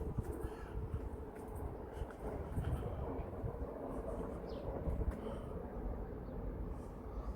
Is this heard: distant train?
yes